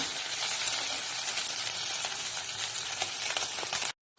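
Loud, continuous sizzling of boiled potatoes frying in a hot pan, with occasional light clicks of stirring, cutting off abruptly at the end.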